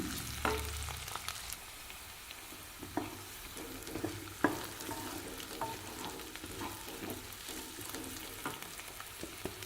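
Three Kashmiri chillies frying in a pan with dal for a chicken gravy, a quiet continuous sizzle broken by scattered stirring scrapes and occasional sharper knocks of a utensil, no talking.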